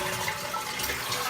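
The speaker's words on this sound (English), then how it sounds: "Then you flush the toilet to drain all the water out." A toilet being flushed to drain its tank during a fill valve and flapper repair gives a brief, close rush of churning water, steady and moderately loud.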